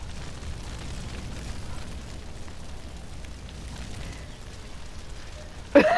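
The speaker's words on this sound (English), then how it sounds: "Is this a firebomb? Yep, it's a firebomb. Fire!" A firebomb explodes in the video game Far Cry Primal, a sudden loud burst near the end that breaks through a steady low rumble of ambient noise.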